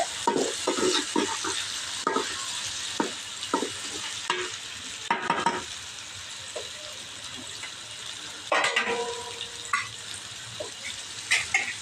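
Vegetables fry for a children's vegetable pulao: a continuous sizzle runs under repeated spatula stirs and scrapes against the pan, with a few louder clanks partway through and no talking.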